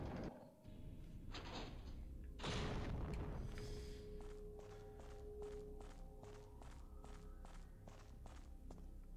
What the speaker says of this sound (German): Ich höre, wie einige Schritte zu mich pirschen.